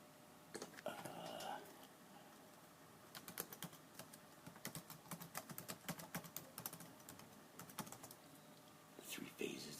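Fingers type on a computer keyboard in quick, uneven bursts of close, crisp key clicks with short pauses between runs, while a voice talks softly in the background.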